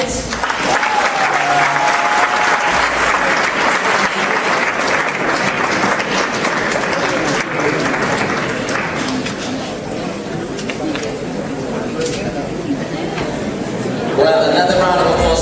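Sustained audience applause for contestants at a live innovation competition, a dense steady wash of clapping with some crowd chatter, continuing loudly throughout.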